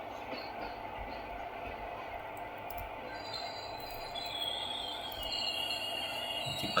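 An Indian Railways passenger train hauled by a WAP-4 electric locomotive rolls steadily, a continuous rumble with wheel noise and faint high squeals. The sound builds slightly toward the end, with no talking.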